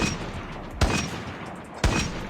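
A PPSH-41 submachine gun fired in a multiplayer shooter game, two sharp loud shots about a second apart over constant rattling background gunfire.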